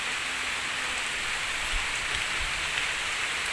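Steady, dense rain falls outdoors during a candlenut-fighting match, a constant close hiss of drops on surfaces with no gaps and no voices.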